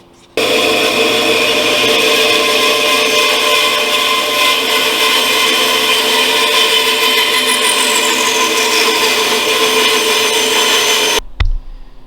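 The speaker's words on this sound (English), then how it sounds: "I'm just going to measure what I want to take off and run it through the bandsaw." A bandsaw runs steadily through a piece of wood in a shop for about eleven seconds, a loud continuous whine and rasp with no talk, stopping abruptly near the end.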